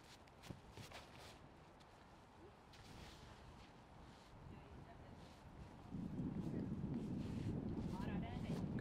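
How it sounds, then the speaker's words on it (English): Strong wind blowing outdoors at a disc golf tournament, a steady rushing roar that buffets the microphone and grows louder partway through, with commentators talking over it. "the wind is really picking up"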